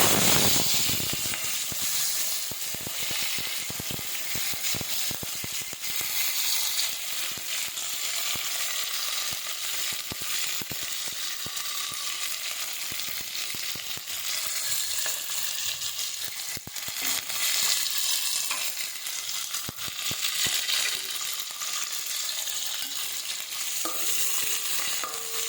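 Fenugreek, cumin and fennel seeds splutter and crackle in hot oil for a fish curry tempering, a dense, steady sizzle with scattered pops running throughout, close and alone without any voices.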